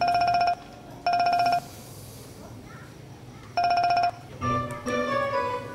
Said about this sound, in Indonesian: Bang, itu HP-nya bunyi mulu.